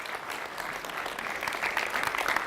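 Applause breaks out at a business talk, a dense, even patter of many hands clapping together at moderate volume, sustained for a couple of seconds.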